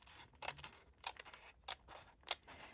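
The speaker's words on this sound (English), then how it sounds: "I'm going to use my scissors." Scissors cut open paper during junk-journal papercraft, giving a handful of crisp, quiet snips spaced about half a second apart. They are close up, with no talking.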